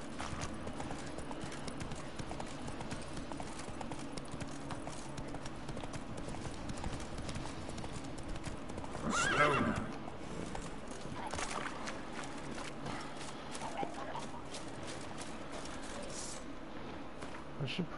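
Steady clip-clop of horse hooves at a walk in The Witcher 3 continues throughout, with a brief louder burst midway, over a constant game-like ambient bed.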